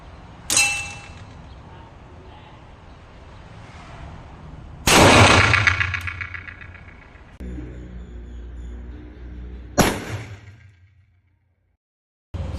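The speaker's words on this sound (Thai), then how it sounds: "สภาพกระป๋องครับ โดน 357 เข้าไปเละ" A .357 revolver with a 4-inch barrel fires at a tin can outdoors, giving three loud, sharp shots a few seconds apart, each with a ringing metallic clang and a decaying tail.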